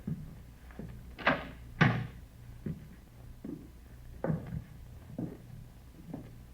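In a radio drama, a door is tried and opened: a series of wooden knocks, rattles and clunks, two louder thumps early on and several softer ones after, over a low steady hum with no talk.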